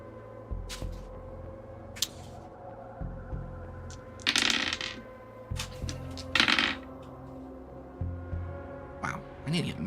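Dice roll and clatter on a tabletop during a tabletop role-playing session, with a few sharp bursts of rattling at close range over a low, steady background tone.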